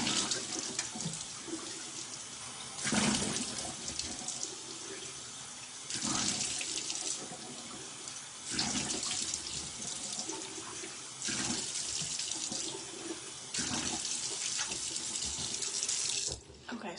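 Tap water runs into a bathroom sink during face washing, a steady splashing hiss broken by repeated bursts as hands cup and splash water, close and fairly loud.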